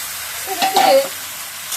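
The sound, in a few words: vegetables being added to hot oil and stirred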